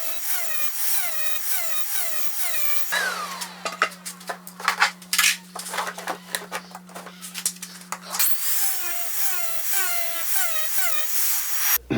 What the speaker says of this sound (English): I know it may be sacrilege to run a Kutzall disc in an ArborTech device